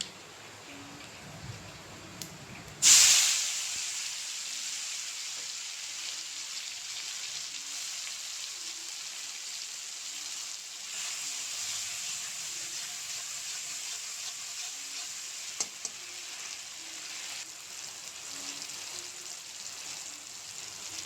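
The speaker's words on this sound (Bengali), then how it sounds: "গোয়ামুড়িগুলো একটু লাল হলে এখন দিয়ে দেব কাঁচামরিচ বাটা।" Green chili paste hitting a hot frying pan with a sudden burst of sizzle, settling into a steady, moderate frying hiss that continues throughout with no talking.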